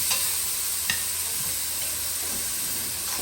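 Small Vidalia onion sweating with garlic in a pan over low heat, giving a steady soft sizzle with a few scraping stir strokes, close and alone.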